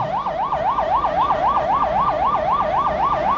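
An ambulance siren wails at a Zambia Police Service passing-out parade at Kamfinsa training school, a loud, fast, regular up-and-down warble repeating steadily over a low outdoor rumble.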